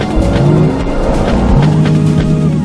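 Gas-powered car engine revving loud and close in a commercial, with rising and falling engine tones and hints of squealing tires, steady and full throughout with no speech.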